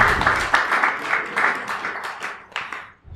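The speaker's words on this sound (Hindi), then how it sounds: "इसलिए उनके लिए भी तालियां बजाते हैं" An audience applauds together for the children's uncle at a devotional gathering, a dense, close burst of clapping that swells and thins over a few seconds before tapering off.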